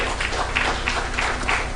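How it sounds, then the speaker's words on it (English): Audience applause at a startup demo day event, a short steady burst of clapping from a seated crowd in a hall, moderately loud and continuous throughout. "A round of applause for David."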